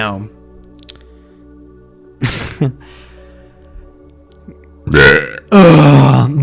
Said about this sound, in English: I was waiting to burp for like the entire hour that this episode started